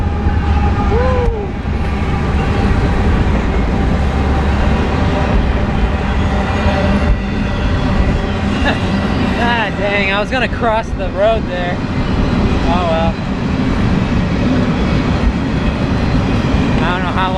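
A train rumbles past on the tracks beside a sidewalk, heard by a cyclist on the way to work: a steady, close roll with brief metallic squeals partway through, under someone talking throughout.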